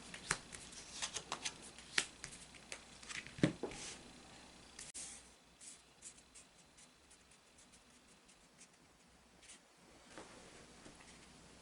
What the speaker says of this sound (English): Okay, we're going to move these. We're going to pull the 2 cards after it.